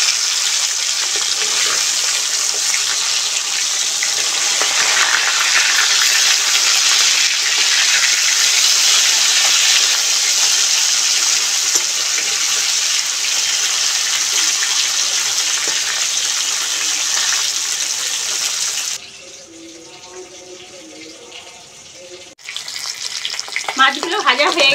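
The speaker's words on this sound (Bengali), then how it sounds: "অন্য পিঠও ভেজে নেব ভালো করে।" Fish fry in hot oil with a loud, steady sizzle that holds for about nineteen seconds, then drops to a quiet lull with faint clinks before the sizzle briefly returns.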